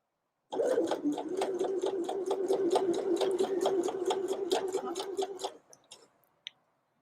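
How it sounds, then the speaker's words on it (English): A sewing machine stitching in the ditch on a skirt runs in a fast, even mechanical rhythm of rapid needle ticks for about five seconds, then stops, followed by a couple of faint clicks. "Use whatever method you prefer to stitch in the ditch."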